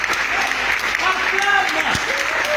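Congregation at a French-speaking prayer assembly applauding in praise of God, a dense steady wash of clapping mixed with cheering voices and a sliding whistle or shout.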